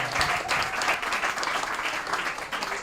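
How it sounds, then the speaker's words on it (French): Audience applause for Naruto at a school competition, a short burst of close, dense clapping from a crowd that stays steady throughout. "Applaudissements pour Naruto."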